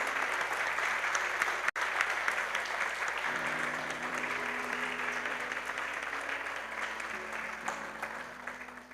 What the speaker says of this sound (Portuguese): Aplauda a Jesus. Aplauda a Deus.